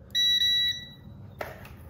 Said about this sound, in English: this continuity will beep.